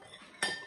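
A spoon clinks against a glass jar once while stirring homemade lemonade, a short bright metallic tap close by in a quiet kitchen.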